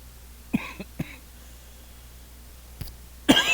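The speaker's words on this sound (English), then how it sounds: "Coughing right in the mic." A few short coughs aimed straight into a close microphone, two quick bursts early, then a louder sharp cough at the end, with quiet room tone between them.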